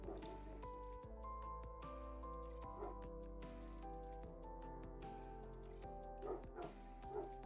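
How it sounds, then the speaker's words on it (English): A dog barks and yips repeatedly, with a few whimpery notes mixed in, over a steady low hum; the barks come in irregular bursts. "Oh Lord, the barking."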